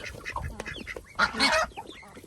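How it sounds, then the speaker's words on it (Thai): Ducks and chickens call in a rural yard in Thailand, with a quick run of close, overlapping honks and quacks and a louder burst midway. "ทั้งเป็ดทั้งไก่"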